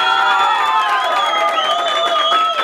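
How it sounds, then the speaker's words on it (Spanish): A crowd cheers and applauds at a mariachi birthday performance, loud and continuous, with sustained tonal voices or instruments running through the whole stretch. "Un aplauso para él, si se escucha."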